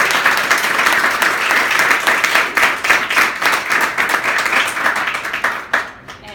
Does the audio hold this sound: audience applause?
yes